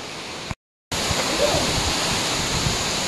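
The broad, steady roar of Bomod-ok Falls in Sagada, Mountain Province, rushes on unbroken, apart from a brief total dropout near the start.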